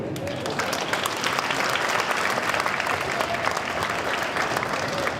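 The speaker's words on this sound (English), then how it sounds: "can we hold the applause to the end?" Sustained applause from a school assembly audience at a Veterans Day celebration, dense steady clapping from many hands filling the hall for about five seconds with no speech over it.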